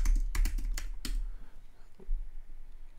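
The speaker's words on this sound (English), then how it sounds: "Let me type in the flash on" Quick bursts of keystrokes on a computer keyboard, a few close clicks then a pause and one more tap, fairly quiet.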